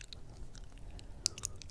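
Close-up biting and chewing of soft gummy candy, with squishy, crunchy bites and wet mouth sounds, sharp bursts near the end over a quiet background, with no talking.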